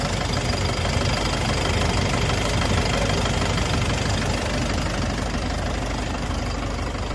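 A Cummins 3.8-liter engine in a JAC N800 eight-ton truck idles with a loud, steady diesel clatter and rumble, close up and continuous, with no other sounds.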